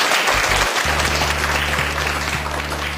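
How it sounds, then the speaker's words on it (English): A classroom of children claps together loudly and continuously during a decimal lesson, a dense burst of many small hands with a steady low hum running underneath. "Give yourselves a really, really big clap."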